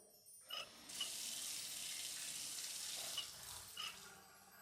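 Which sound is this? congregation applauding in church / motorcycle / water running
water running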